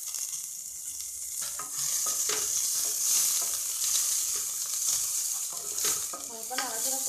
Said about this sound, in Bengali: এবার আমি কাঁচা লঙ্কাটা অ্যাড করছি।